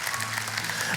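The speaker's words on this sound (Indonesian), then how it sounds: "kasih tepuk tangan untuk Tuhan yang ada di tengah kita" A brief burst of congregational applause during a church Bible study sermon, many hands clapping in a dense, steady wash.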